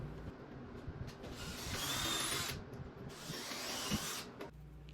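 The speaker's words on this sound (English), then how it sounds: "Then it was just back to pre-drilling and sinking some screws in for the rest of the 2x4 carcass." A power drill pre-drilling and driving screws into a 2x4 wood frame for a banquette cabinet carcass, with two sustained whirring bursts over a steady low background hum, fairly close.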